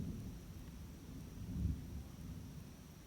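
Distant thunder rumbles low and soft beneath a steady hiss of approaching rain in the Algonquin backcountry, swelling briefly near the middle.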